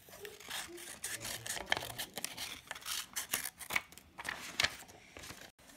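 A toddler snips paper with scissors during a colour-matching craft game at home, producing a quiet, irregular series of close crisp cuts and rustles with no talk.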